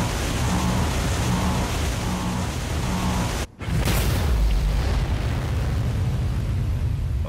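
A torpedo detonates in Star Citizen, likely fired from an Aegis Dynamics Retaliator bomber. Dense roaring rumble, a sharp cut to near-silence midway, then the blast bursts back loud and sustained.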